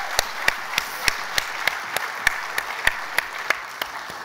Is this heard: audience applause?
yes